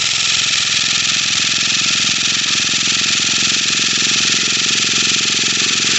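A Traxxas nitro RC engine runs steadily with an even, buzzing drone at fairly high volume, holding a constant pitch throughout with no speech over it.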